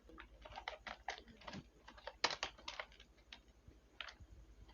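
Steady, close typing on a computer keyboard while Java source code is entered, with quick irregular clusters of key clicks and no talking.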